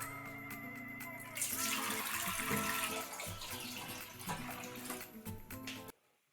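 Water pours and splashes steadily into a container for a leather-cleaning mix, a broad rushing stream for several seconds under background music, stopping abruptly near the end.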